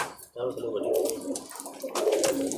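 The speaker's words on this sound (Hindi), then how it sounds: "तो समीर भाई आपको कबूतर दिखा रहा हूँ।" A teddy pigeon gives a few low, throaty coos close by in a short burst, with someone speaking over and between them.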